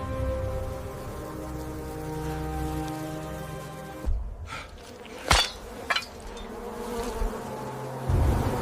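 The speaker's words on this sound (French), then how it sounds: "Les mouches noires voilent le soleil." A swarm of black flies producing a continuous layered buzzing drone, with a few sharp clicks and knocks cutting in during the second half.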